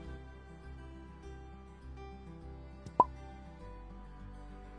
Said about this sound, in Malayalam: ഒരു മീഡിയം സൈസിലുള്ള തക്കാളി അരിഞ്ഞതാണ് എടുത്തിട്ടുള്ളത്. ഇത് ചേർത്ത് കൊടുക്കാം.